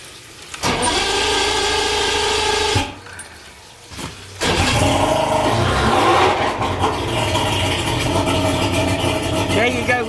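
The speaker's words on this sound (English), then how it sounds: "when you turn the key and crank it" An outboard motor is cranked with the key and catches, the starter churning briefly before the engine settles into a loud, steady idle that runs on close by, with a voice heard over it.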